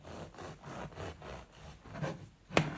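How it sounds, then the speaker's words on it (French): A bread knife saws through a loaf of homemade pain de mie in steady back-and-forth strokes, close and fairly quiet, ending with a sharper crunch as the blade finishes the slice. "Je découpe le pain devant tes yeux avec mon couteau à pain."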